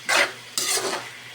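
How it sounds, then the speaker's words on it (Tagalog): Vegetables for pancit guisado stir-fried in a pan, two short bursts of stirring and scraping with a light sizzle in a home kitchen, close and moderately loud. "luto ng gulay na lang natin. Half cook."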